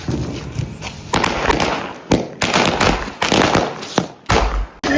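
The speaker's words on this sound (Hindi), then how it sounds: "फिलहाल यहाँ पे हो रही है बम फोड़ने की तैयारी" Firecracker bombs bursting during Diwali celebrations, a dense string of sharp cracks and heavy thumps with several loud close blasts over a constant crackling background.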